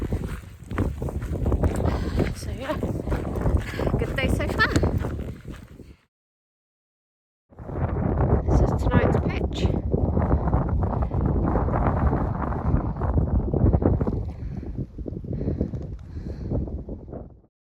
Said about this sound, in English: it needs to be out of the wind because it's pretty windy up here